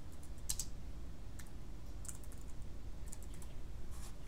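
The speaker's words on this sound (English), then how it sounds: "And then you type in whatever you wanna call yourself." Typing on a computer keyboard while entering a name for a new Facebook page: short clusters of light keystroke clicks with pauses between, close by over a low steady room hum.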